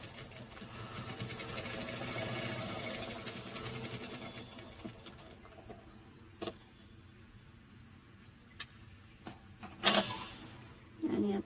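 An electric sewing machine stitches a half-katori full blouse, its rapid whirring run fading out midway, followed by a few scattered clicks and handling knocks as the fabric is adjusted.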